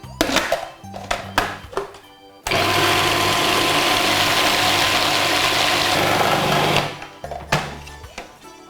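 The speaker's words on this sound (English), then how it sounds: "the first thing I need to do is whiz them up in a food processor" Raspberries pureed in a food processor: several short clattering pulses, then a loud continuous whirring blend of about four seconds, followed by more brief pulses and rattles as the machine stops and starts.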